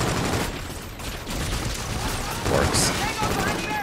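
Gunfire in Call of Duty: Infinite Warfare, dense and loud bursts of shots and blasts packed together, with a brief spoken word in the mix.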